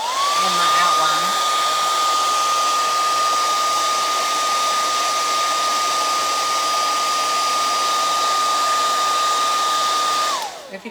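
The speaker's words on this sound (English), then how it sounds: "If you don't do a good dry with the hair dryer, they mix the colors together." A hair dryer blows steadily on wet paint, a loud constant whining hum that switches on at the start and cuts off just before the end.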